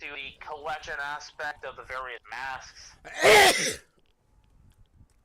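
Someone speaks casually, then a single sharp, loud sneeze bursts out near the microphone, followed by near silence.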